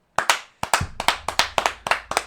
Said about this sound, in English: That's a full-on clap.